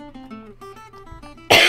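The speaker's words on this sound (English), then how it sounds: "I don't know where that cough came from." A single sharp, loud cough bursts out near the end, cutting over soft, tuneful game music from The Sims 4.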